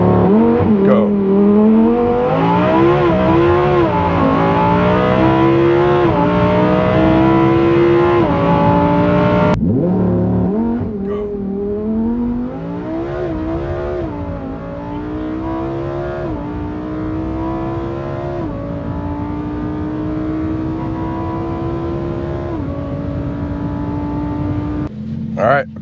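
A Lamborghini Huracan Tecnica in Corsa mode doing a launch-control start, its engine screaming loudly up through the gears with rising and falling pitch on each shift, heard from inside the car.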